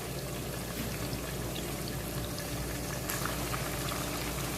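Chicken biryani simmering over a low flame makes a continuous soft bubbling hiss, close and even throughout with no voices.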